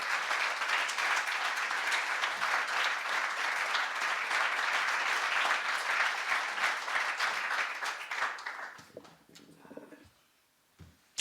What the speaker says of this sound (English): a very warm round of applause for Reverend J. Anthony Lloyd